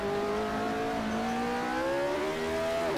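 A McLaren M23 Formula 1 engine held at full throttle in Assetto Corsa, a loud steady high-pitched wail with the pitch rising gently as it pulls, continuous and alone.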